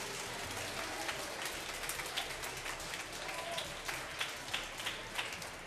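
A school quiz show audience applauds a competing team, a fairly quiet, continuous patter of many hands, with a few louder claps standing out near the end.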